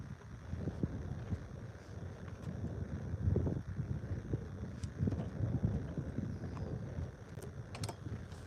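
Wind buffets the microphone outdoors while perch fishing, a continuous low rumbling roar with gusty swells throughout and no talk over it.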